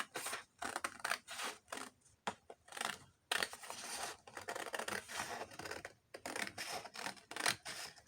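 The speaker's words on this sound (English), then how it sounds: "And I'm just going to cut this over here." Scissors snip through paper pages for a junk journal, a quick run of crisp close cuts with short pauses between strokes, no talking.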